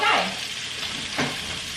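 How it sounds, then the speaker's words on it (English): Grits pouring into a pot and being stirred, giving a steady sizzling, scraping hiss with a brief louder swell near the start and another toward the end. "We are going to pour and stir."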